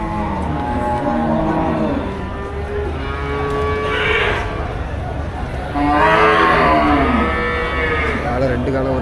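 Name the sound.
Jersey cattle mooing at Melapalayam cattle market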